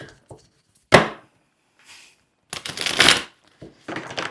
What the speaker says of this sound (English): Let me change how I shuffle it, and we're going to see if it pops up then.